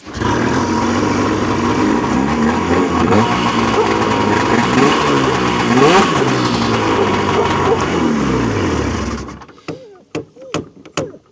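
A snowmobile engine from a 1990s Polaris project, likely a two-stroke, running loudly and close for about nine seconds with uneven revving and a buzzy, raspy tone, then cutting off into a few sharp thumps.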